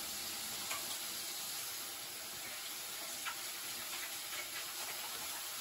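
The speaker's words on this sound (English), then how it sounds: "you can actually see the whole process of the bacon cooking" Bacon cooks in a pan with a faint, even sizzling hiss and a few soft pops, heard at a distance and with no talking.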